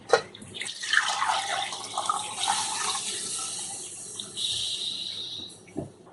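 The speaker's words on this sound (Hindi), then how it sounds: "अब हम इसमें ऐड करेंगे 8 ग्लास पानी।" Water pours steadily into a cooking pot of beef nihari, with a splashing, rushing hiss that shifts in tone as the level rises, fairly close, with no talking.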